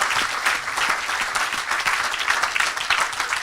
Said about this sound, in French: Tu peux acclamer plus fort que ça.